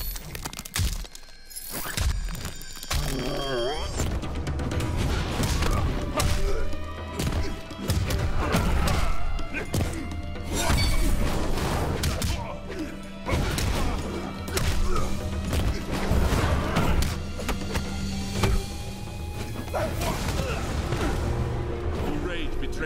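Heavy impacts from an X-ray move in Mortal Kombat XL, a run of loud smashing thuds, cracks and shattering hits over music, with voices speaking through parts of it.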